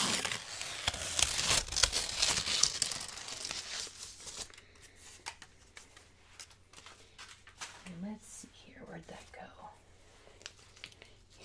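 Rustling, crinkling crepe paper from grocery packaging in the first few seconds, close and fairly loud, followed by quieter handling noises and a soft voice murmuring.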